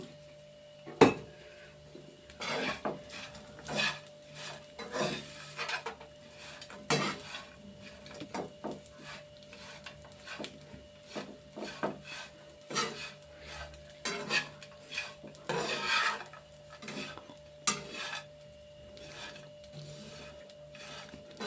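Bitter gourd frying in oil in a pan while a ladle stirs it, with repeated metallic scrapes and clinks over a soft crackle, close and uneven in rhythm, no talking.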